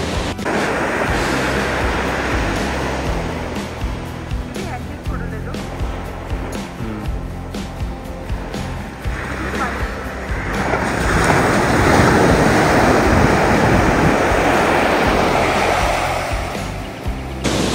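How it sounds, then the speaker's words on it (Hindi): Ocean surf crashes steadily on a rocky beach at Cabo De Rama in Goa, loud and close with wind buffeting the microphone, swelling into a heavier roar of breaking waves in the second half while people talk intermittently. "लहरों की आवाजें क्या गूंज रही है यहाँ पे यार"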